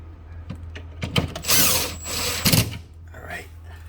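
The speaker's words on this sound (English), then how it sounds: "one hand with the drill" A handheld power drill runs in short bursts while fitting a replacement icemaker inside a Samsung freezer, whirring close up with a steady hum underneath and brief gaps between pulls of the trigger.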